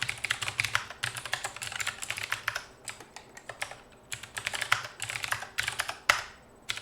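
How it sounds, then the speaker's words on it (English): Rapid, loud clattering of a computer keyboard being typed on during a late-night coding session, with dense bursts of keystrokes and brief pauses between runs. "Yes, that keyboard is pretty loud."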